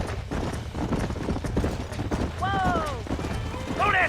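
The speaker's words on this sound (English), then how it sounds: "There's the horses!" Horses gallop in the Western video game Red Dead Redemption, with quick clip-clop hoofbeats throughout, a whinny-like rising tone near the end, and someone shouting over the action.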